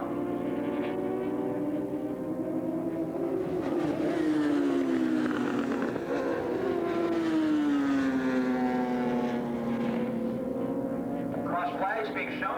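A 750 superbike racing engine screams past on a track, its pitch sweeping up and down through gear changes, loud and continuous, with a race announcer talking over it.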